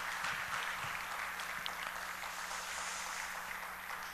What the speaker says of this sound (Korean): 우리 한 번 더 박수해 주세요